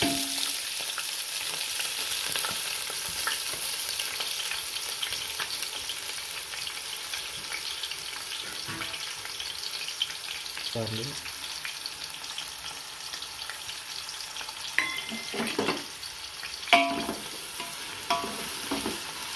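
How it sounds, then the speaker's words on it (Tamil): Chopped onions fry in about 150 ml of oil for chicken biryani, a continuous close sizzle with occasional stirring scrapes and clinks from a spoon in the pan. "இந்த ஆனியன் வந்து நல்லா கோல்டன் ப்ரௌன் கலர் ஆகிற வரைக்கும் நல்லா வதக்கணும்."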